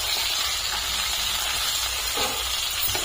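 Okra slices fry in a pan with a steady, loud, continuous sizzle and hiss that holds evenly throughout, up close and alone.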